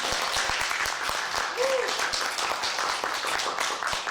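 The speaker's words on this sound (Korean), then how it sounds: "여러분 박수로 환영해 주시기 바랍니다" Sustained audience applause at a Korean-language speech contest for foreign workers, welcoming a speaker from Nepal; dense, steady clapping fills the whole stretch at an even level with no break.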